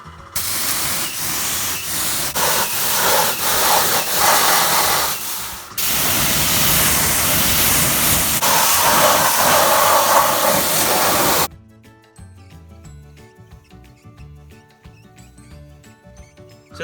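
A pressure washer with a Cat model 290 pump runs after an oil change, giving off a loud, steady spraying hiss with brief dips and restarts before it cuts off and only faint low hum remains.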